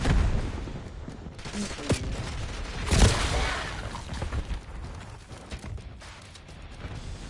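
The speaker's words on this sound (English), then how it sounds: "Oi, enemy grenade! Incoming stun!" Cyberpunk video game combat: an enemy grenade goes off amid bursts of gunfire, with a sharp blast near the middle, scattered shots and rumbling action sound, fairly quiet overall.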